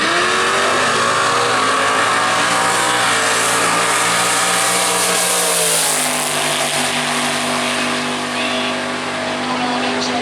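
A drag racing car makes a solo pass in the right lane at World Wide Technology Raceway, its engine roaring loud and steady, pitch climbing then settling into a sustained high drone as it runs down the strip, with an announcer talking over it.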